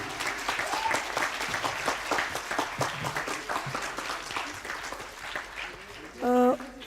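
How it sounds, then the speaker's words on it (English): A large auditorium audience applauds the competing teams at a medical quiz grand finale, with sustained, fairly even clapping from a crowd at moderate distance, ending with a short tonal electronic sound. "Let's hear a big round of applause for all the teams."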